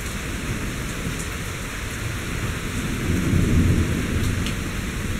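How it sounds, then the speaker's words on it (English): Low thunder rolls continuously through steady summer rain pattering on surfaces, swelling louder toward the middle and end, with no voices. "you can hear the thunder"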